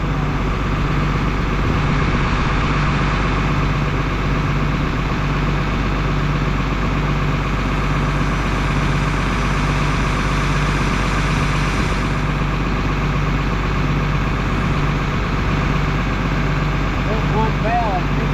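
A tractor engine runs steadily at a constant low rumble throughout, loud and close, with no change in pace.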